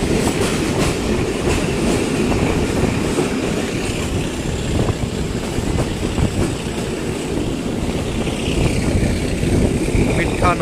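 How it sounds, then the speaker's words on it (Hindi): A Mianwali Express passenger train runs past on the rails in Pakistan, producing a loud, steady roar with rhythmic clickety-clack of wheels over track joints, close by and continuous. "अब मियाँ वाली एक्सप्रेस लग रही है।"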